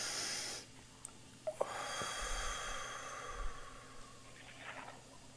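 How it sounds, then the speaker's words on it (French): A single deep, slow breath taken during a guided breathing exercise, a soft airy inhale and long exhale close to the microphone with no talking. "une respiration."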